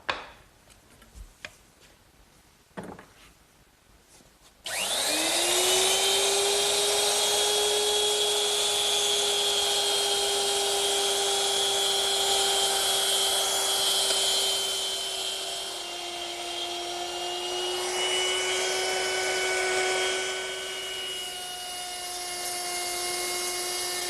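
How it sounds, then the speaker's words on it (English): A router fitted with a round nose bit and a fence cutting wood: after a few handling knocks it spins up to a loud, sustained whine that holds steady, dipping slightly in pitch partway through as it bites into the cut. "using my router, which is equipped with a round nose bit and a fence"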